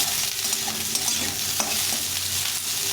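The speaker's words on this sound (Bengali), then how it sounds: "এখন এর মধ্যে ফুলকপিটা ভেজে নেব।" Boiled cauliflower frying in oil in a pan, a steady close sizzle with spatula stirring and occasional soft scrapes, continuous and fairly loud with no talk.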